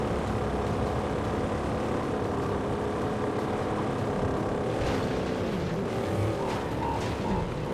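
A car engine in the video game Mad Max on PC roars steadily and loudly throughout, with its pitch shifting slightly as it revs, and no talking.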